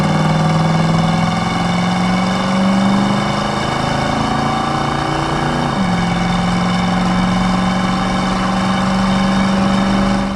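Restored 1972 Chevrolet Camaro RS/SS with its numbers-matching 350 V8 and automatic transmission, heard from inside while driving: a steady engine drone climbs as the throttle opens, dips sharply mid-way, then settles into a firm cruising note.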